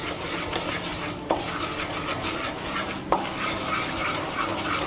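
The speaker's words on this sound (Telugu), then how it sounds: "ఇప్పుడు మనం 2 స్పూన్లు మైదా వేసుకుందాం. ఇది మనం బాగా కలుపుకుంటూ ఉండాలి" Maida flour being stirred into melted butter in a pan for white sauce, a continuous close rustling scrape with a soft sizzle and two brief clinks of the spoon, with no talking.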